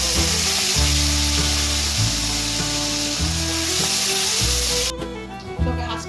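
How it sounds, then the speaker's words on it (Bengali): Chilies fry in hot oil with a loud, steady sizzle and crackle, and a few scraping stirs run through it; the frying quiets abruptly near the end. "লঙ্কাটা একটু লাল করে ভেজে নিই, একটু কালো কালো করে লঙ্কাটাকে একটু ভেজে নেবো।"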